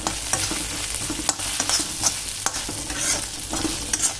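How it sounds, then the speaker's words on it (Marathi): Green chillies and garlic dry-roasting in a pan over a low gas flame give off a soft, steady sizzle, broken by scattered clicks and scrapes as they are stirred, with no talking. "कमी गॅसवरतीच भाजा, जेणेकरून ह्या मिरच्या पूर्णपणे सगळ्या बाजूने भाजल्या जातील"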